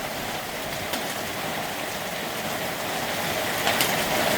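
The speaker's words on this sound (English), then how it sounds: "Uh-oh, that's hail. That was hail." Large hail falls as a dense, steady hiss, with a few sharper hits standing out now and then. It's loud and close, with no voices.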